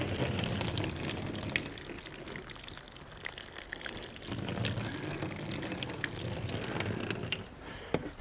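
Water poured over transplanted tomato plants outdoors: a steady broad splashing and spraying rush that swells and eases slightly, close and continuous with no talking.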